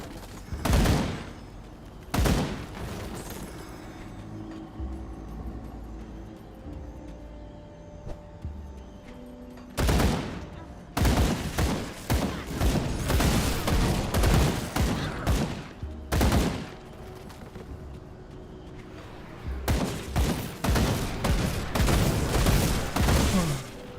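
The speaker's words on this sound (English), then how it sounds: "I just realized that the gunshot sound effect may be loud." Gunfire from the action RPG Grim Dawn, loud close bursts of rapid shots and booming volleys separated by brief lulls, with rumbling background noise underneath.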